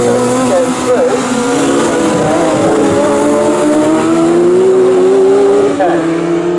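Sports 1000 racing cars at Snetterton, engines droning and revving loudly in a close pack through a corner, tones rising and falling continuously, with a race commentator talking over them.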